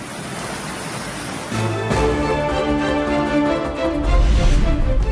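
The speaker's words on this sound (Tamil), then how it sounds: "தொடரும் கனமழையால் மிதக்கும் மும்பை மாநகரம்" Heavy rain and floodwater in Mumbai make a dense, steady rushing wash, loud and continuous, swelling stronger near the end.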